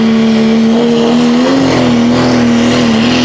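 A Pro Stock diesel pulling truck engine runs rough after losing a cylinder, a loud, steady droning growl with a slight wavering pitch and heavy roar throughout, close and unbroken.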